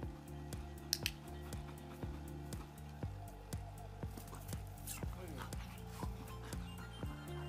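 A dog being trained barks and whimpers in short bursts over a steady rhythmic background beat, while a trainer speaks Spanish to it.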